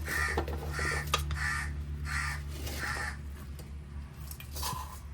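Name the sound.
crow cawing outside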